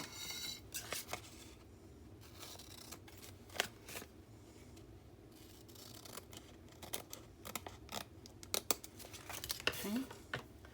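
Soft snipping of scissors through paper, several quick cuts scattered among rustling and handling noises, close by and fairly quiet.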